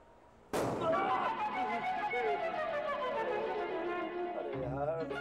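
A single firecracker bursting for Diwali, a sharp loud bang followed by a long ringing, descending tonal shimmer that fades over several seconds, with a second thump near the end.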